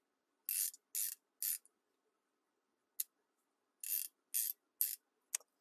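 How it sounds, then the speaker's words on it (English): Koken swivel-head comfort-grip ratchet clicks in short close bursts, three quick runs, a pause, then several more, crisp and isolated against silence. "So this is a Koken ratchet"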